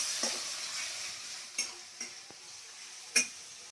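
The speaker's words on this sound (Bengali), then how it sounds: "তেলটা গরম হয়ে গেছে, পুরো পেঁয়াজটা আমি এর মধ্যে দিয়ে দেবো, দিয়ে একটু নেড়ে নেবো। এটা আমার পেঁয়াজটা একটু ভাজতে থাকুক।" Onion frying in hot oil while being stirred in a pan: a soft, steady sizzle with a few sharp clinks and scrapes of the spoon against the pan, heard fairly close and faint.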